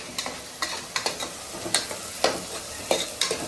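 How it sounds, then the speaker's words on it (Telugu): Masala with garam masala frying in a pan, a low steady sizzle broken by regular scraping strokes of a spatula, close and unaccompanied by voices. "ఇప్పుడైతే ఇది ఎర్రగా వేగాలి"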